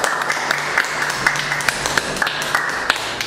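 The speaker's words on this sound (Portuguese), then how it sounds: "Ele foi aplaudido por toda a equipe médica e familiares" Medical team and family members applaud a coronavirus patient discharged from an ICU in Parauapebas, a steady round of clapping with sharp individual claps standing out.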